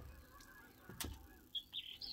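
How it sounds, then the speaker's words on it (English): A skylark's song comes through as a few faint, brief, high chirping notes outdoors after a soft thump, with quiet background hiss. "Now the summer is coming, then you can hear the skylark like this"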